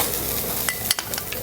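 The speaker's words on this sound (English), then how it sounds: "you can smell that butter, the thyme frying off in the pan" Sprigs of thyme and pads of butter frying in a pan, giving a steady close sizzle with a few sharp spitting pops and clatters near the end.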